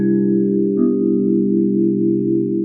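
Wind chimes of the Flight 93 Tower of Voices memorial ring as loud, sustained tones, with the pitch blend shifting after the first second and then holding steady.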